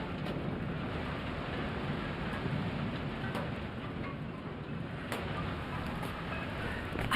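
Steady rain and thunderstorm on the planet Regis III in the video game The Invincible, a constant dense hiss with a few sharp crackles, no voices.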